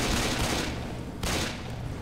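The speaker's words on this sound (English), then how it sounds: "My pistol shoots like 20 shots!" A modded pistol in the video game Left 4 Dead fires a dense, continuous burst of rapid shots, loud and close, with the gunfire running almost unbroken through the short stretch and a brief dip midway.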